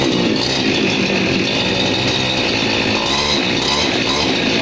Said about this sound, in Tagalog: Heavy duty na grass cutter.